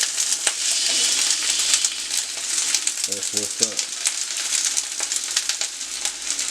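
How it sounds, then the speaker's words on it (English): Vegetables sizzling in a pan for a sausage and potato casserole, a loud steady crackling hiss close by, with a man's brief spoken remark over it midway. "Hear that sizzle?"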